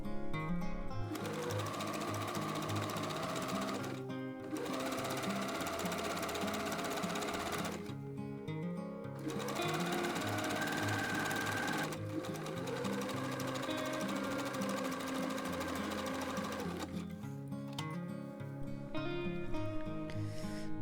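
A sewing machine overcasts the edge of a drawstring dress in several loud, steady, rapid-stitching runs, each a few seconds long, separated by brief pauses.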